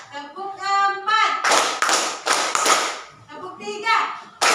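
Group clapping in rhythm during an ice-breaking clap game in a classroom, bursts of several claps alternating with a leader's chanted counting voice, loud and close.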